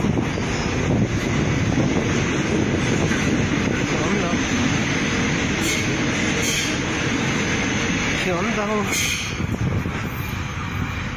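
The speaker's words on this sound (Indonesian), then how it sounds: "tiba-tiba terdengar suara kereta yang bergemuruh" A heavy, continuous rumble of a passing train with wind buffeting the microphone, and voices faintly underneath.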